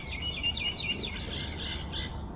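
Small birds chirp and tweet in quick, repeated bursts of high calls over a steady low background rumble, fairly close and continuous throughout.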